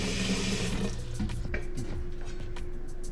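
A tap runs water into a cooking pot for boiling eggs, a steady splashing gush close by that fills continuously, with the pitch of the pour changing as the pot fills.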